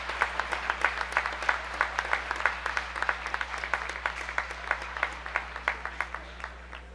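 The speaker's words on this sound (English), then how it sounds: "let's have a big round of applause for your class of 2021 Gadsden Panthers" Audience clapping for the class of 2021 at a school gathering, a moderately dense but distinct patter of individual claps heard from some distance over a low steady hum, sustained at an even level.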